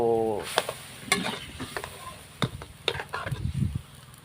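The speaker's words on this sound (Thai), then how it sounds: "แล้วก็ น้ำปลาพี่น้อง แล้วก็เคี่ยวให้นัวๆเลยพี่น้องคี่ยว" Chili sauce with fish sauce and coconut sugar simmering in a pan, with soft bubbling and sizzling broken by sharp clinks and scrapes of a utensil stirring against the pan.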